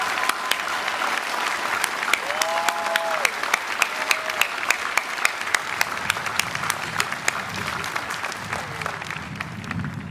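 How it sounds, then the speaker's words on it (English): A commencement ceremony audience gives a keynote speaker a round of applause, a steady crowd of hand claps that stays even throughout and tapers slightly toward the end, with a faint voice briefly audible beneath it. "Let's give another round of applause for our exceptional keynote speaker, Pat Gallagher"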